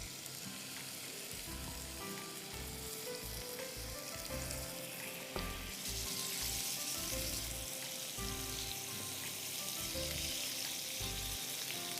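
Prawns coated with chili powder, salt, crushed black pepper, lemon juice and lemon zest sauté in hot olive oil, giving a loud, continuous close sizzle that swells slightly partway through, with no voices.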